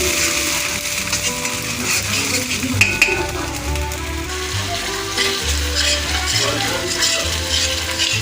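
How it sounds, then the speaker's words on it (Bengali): Ground spice paste frying for soya chilli, a continuous loud sizzle with repeated scraping of a spoon against the pan and occasional metallic knocks. "মশলাটা আমি পাঁচ মিনিট কষে নেব"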